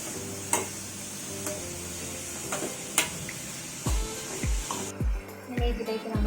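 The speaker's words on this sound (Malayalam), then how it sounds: "ഇനി ഇത് നന്നായിട്ട് ഇളക്കി കൊടുക്കുക." A spatula scrapes and stirs a papaya thoran stir-fry in a hot pan, with a soft sizzle underneath and a string of firmer scraping strokes toward the end, close and clear.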